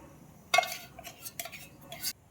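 A spoon stirs corn pulao in a metal pot, a few close scraping, clinking strokes over about two seconds in a quiet kitchen.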